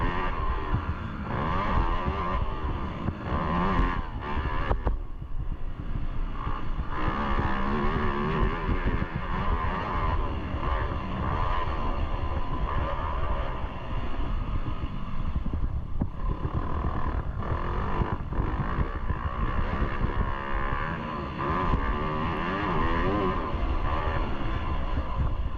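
A 450 motocross dirt bike races its final lap at an AMA Idaho championship round, the engine loud and close with constant revving and shifting throughout.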